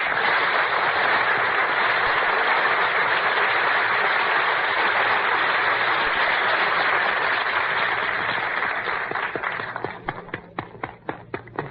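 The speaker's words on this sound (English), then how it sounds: "I'm applauding because I know what's coming." Loud, sustained applause from a theater audience for Dooley Wilson, a dense wash of many hands clapping that holds steady for about ten seconds before thinning into scattered individual claps.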